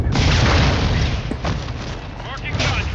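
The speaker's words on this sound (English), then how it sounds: "Firing rocket launcher." A rocket launcher fires and detonates in Call of Duty Warzone 2.0, heavy booming blasts that roll on as a loud, sustained rumble, with a second burst near the end and a player talking over it.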